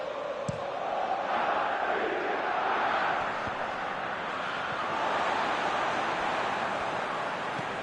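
Stadium crowd roar in a football video game, a steady broad wash of cheering sustained throughout at moderate loudness, with no commentary over it.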